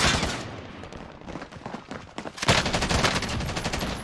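Sustained automatic gunfire in a shooter video game on PS5 or Xbox Series X, dense rapid shots that run continuously and loudly for several seconds with no pause.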